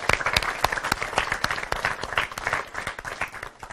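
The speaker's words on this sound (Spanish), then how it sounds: "Fuerte aplauso también" An audience applauds steadily at an academic event introducing a peace-education coordinator, many hands clapping densely and close for several seconds without pause.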